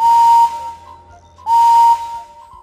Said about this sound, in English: I can whistle best of all.